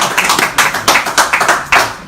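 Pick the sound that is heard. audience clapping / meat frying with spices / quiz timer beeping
audience clapping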